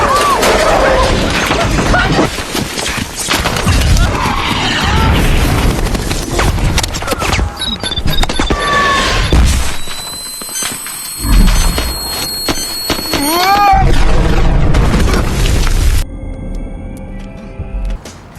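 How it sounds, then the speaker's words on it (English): A mini-missile from Stark Industries blasts down right in front of Tony Stark in an Iron Man film scene, loud crashing booms and debris over a dense action soundtrack, with squealing tones and a sudden drop near the end. "a mini-missile lands right in front of him"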